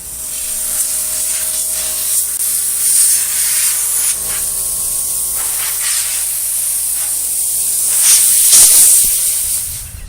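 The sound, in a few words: spray primer being sprayed on a vintage Craftsman workbench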